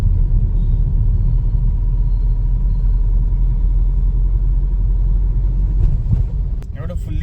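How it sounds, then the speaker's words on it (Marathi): Traffic in a jam on a Pune road makes a steady, loud, low rumble of idling and crawling vehicles inside a car, with brief clatter near the end. "एवढं फुल्ली ट्रॅफिक जाम आहे."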